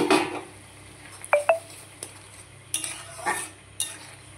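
Fried paneer stirred into simmering, bubbling poppy seed (posto) gravy: a spoon scrapes and clinks against the pan in a few distinct taps over a soft, steady simmer, with no talking.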